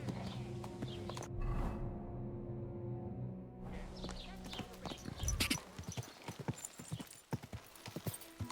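Hooves clip-clop in a steady walking rhythm on a video game horse, close and clear, with a brief neigh-like burst early on and faint background ambience.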